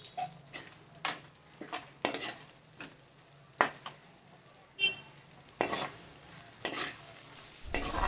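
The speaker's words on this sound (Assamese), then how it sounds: "এইখিনিতে মই শুকান মাছ অলপ ভাজি লৈছোঁ" Dried fish frying in a pan gives a low background sizzle broken by sharp, intermittent scraping and stirring clicks from a utensil, close and fairly quiet.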